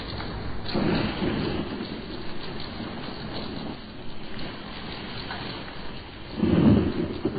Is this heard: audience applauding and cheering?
no